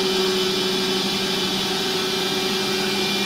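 A CNC machine skims a workpiece base while a vacuum cleaner runs, together making a constant loud whirring drone with a steady tonal hum and no breaks or voices.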